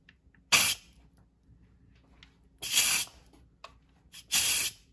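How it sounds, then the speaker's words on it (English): Steam bursts from a pressure cooker's release valve after cooking beans, coming in three loud separate hissing spurts with near silence between them. "So I'm going to show you how to release the pressure"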